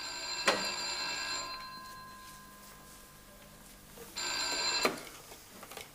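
An old telephone bell ringing in a 1981 Polish film scene, two separate ring bursts with a quiet pause between them, close and clear, with no talking.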